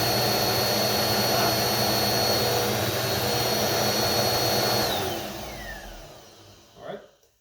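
A Eureka Powerspeed vacuum cleaner motor runs with a loud, steady high-pitched whine, then spins down with a falling tone to silence, followed by a brief clunk near the end.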